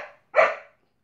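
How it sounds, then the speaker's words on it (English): A dog gives a single sharp, loud bark up close in a quiet room, following a brief fading sound before it and then silence. "Sorry about the barking dog."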